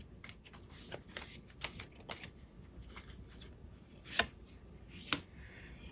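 Tarot cards are shuffled by hand in a quiet room, soft riffling and sliding with a few sharper slaps of the deck, close and fairly faint.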